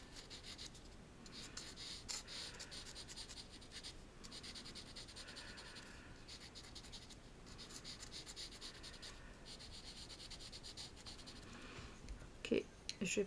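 KALOUR pastel rubbing across the grainy surface of Canson mixed media paper, a continuous dry scratchy rasp in long back-and-forth strokes with brief pauses, close and quiet, under a person talking.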